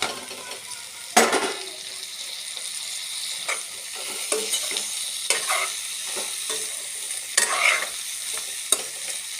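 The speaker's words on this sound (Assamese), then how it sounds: "মই ইয়াতে বইল কৰা পৰ্কখিনি ঢালি দিম" Boiled pork is tipped into a browned onion, garlic and ginger paste and sizzles up close, with repeated stirring scrapes and spatula clatter against the pan over a constant hiss, and no talking.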